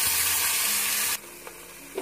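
Onion paste hits hot oil with a loud broadband sizzle, then drops sharply to a quieter crackle with a few faint clinks as frying continues for a Mughlai dish.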